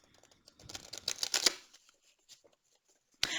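Tarot cards are shuffled for a reading: a close, crisp burst of riffling and flicking is followed by a few scattered soft taps, then a short fresh burst at the very end.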